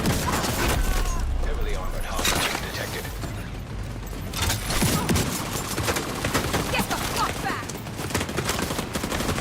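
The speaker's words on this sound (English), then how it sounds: "you're basically emptying the mag on everybody" Shotgun blasts in The Division 2 fire again and again in irregular bursts, with reload clicks between them, alongside other gunfire and game sounds.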